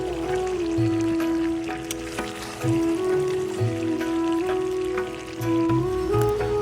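Homemade duck meat frying in its own fat in a pot over a clay stove, a continuous crackling sizzle with a steady tone and soft stirring scrapes, fairly close.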